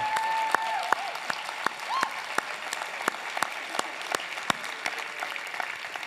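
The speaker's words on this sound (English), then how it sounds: "let's just formally cheer our fathers on and thank them" A church congregation claps and cheers for the fathers standing among them, sharp scattered handclaps ringing out in an uneven patter that thins toward the end, with a few voices whooping early on.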